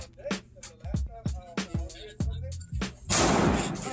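Gunshots at an outdoor shooting range, about eight sharp loud reports at irregular intervals, the last followed by a broad burst of noise.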